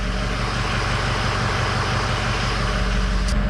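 A 2005 Ford F-250 Harley Davidson edition diesel pickup idles steadily, a loud, close, continuous low rumble with no pauses over the whole stretch.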